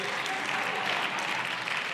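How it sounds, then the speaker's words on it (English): Steady applause from a large audience at a live event in Rome, a dense continuous wash of many hands clapping, loud and even throughout with no clear break or talk. "why are they clapping for my failure?"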